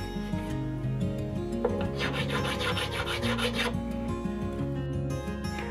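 A fret crowning file worked along a guitar fret, short repeated rasping strokes in a quick rhythm, close up, over a low steady hum.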